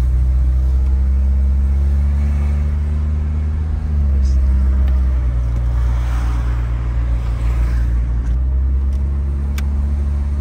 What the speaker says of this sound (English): we are going for the first drive in the Kadett